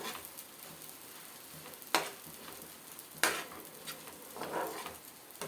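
Tomato chutney with coriander and mint is stirred in a hot pan, with a steady soft sizzle, scattered scraping, and two sharp utensil clacks against the pan.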